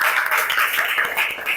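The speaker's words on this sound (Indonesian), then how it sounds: "Sekali lagi, beri tepuk tangan untuk kelompok 3." A classroom of students applauds a student group, a dense, steady patter of many hands clapping throughout, fairly close and unbroken, with no voices standing out.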